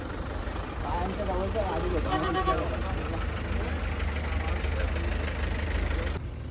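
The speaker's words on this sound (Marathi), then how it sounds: "Traffic jam." Idling vehicle engines stuck in a traffic jam near Badrinath, a steady low rumble that holds throughout with a voice talking over it.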